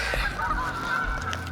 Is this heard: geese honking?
yes